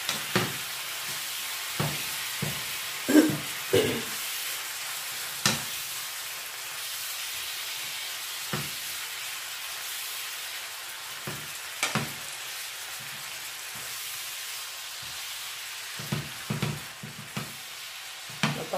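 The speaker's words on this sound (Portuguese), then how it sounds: "Vamos ver aqui nosso bacon para não queimar." Bacon fries in a pan with a steady background sizzle, broken by repeated sharp scraping knocks as it is stirred, close and fairly loud, with no voices.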